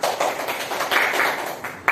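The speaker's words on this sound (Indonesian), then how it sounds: "Kita beri tepuk tangan" Classroom applause for student groups who have just presented, a steady patter of many hands clapping at moderate distance, with no voices over it.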